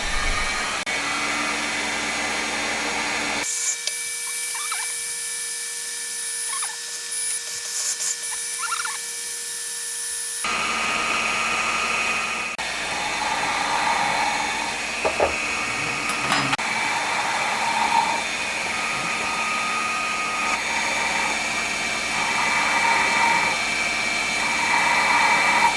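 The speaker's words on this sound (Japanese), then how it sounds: "まずはセンタードリルから順次進めていきます。" A center drill cutting M5 screw holes in a metal part for a Honda Monkey four-cylinder engine build, giving a steady machine whine with squeaky cutting noises, a quieter stretch early on, and no talking.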